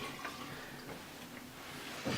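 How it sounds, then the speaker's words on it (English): Hot shower water runs steadily as a beard is rinsed, a soft continuous hiss and patter with a brief louder splash near the end and no talking. "I'm gonna go ahead and rinse it out now. So, just give me another minute. Oh, the water's hot."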